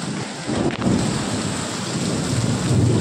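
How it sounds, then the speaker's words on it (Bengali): Heavy monsoon downpour hisses steadily and close, with a deep rolling thunder rumble swelling beneath the rain during a dark storm, and no voices present. "বাইরে অন্ধকার হয়ে গেছে, মুষলধারে বৃষ্টি হচ্ছে।"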